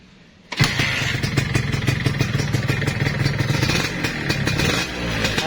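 Honda motorcycle engine, a C70 or S90, starts abruptly and runs with a steady, loud, close putter and rapid mechanical ticking throughout, with no talk.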